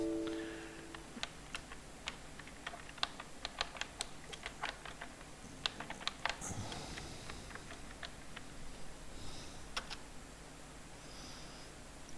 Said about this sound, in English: okay, we will type